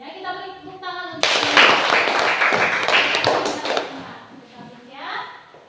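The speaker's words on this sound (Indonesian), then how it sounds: "kita beri tepuk tangan untuk" A classroom of students claps together in a burst of applause that swells and then fades over several seconds, with a voice speaking before it starts and again as it dies away.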